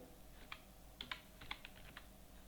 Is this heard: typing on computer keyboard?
yes